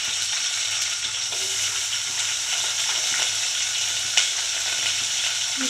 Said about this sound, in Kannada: ಎಣ್ಣೆ ಬಿಟ್ಟೆ, ಈರುಳ್ಳಿ ಹಾಕ್ತೀನಿ